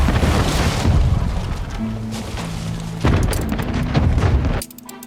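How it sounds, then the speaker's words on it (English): Broadside cannon fire from ships of the line in the Anno 1800 city-building game, heavy booming blasts rolling over continuous battle rumble and water, with a fresh volley near the middle before the din cuts off abruptly. "I love the sound of these cannons."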